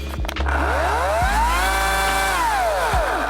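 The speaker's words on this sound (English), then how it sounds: "you're able to use your chainsaw" A Ryobi 40-volt battery chainsaw revs up, its whining motor pitch rising and falling in a long sweep between a few brief clicks and thumps, loud and close with no talk.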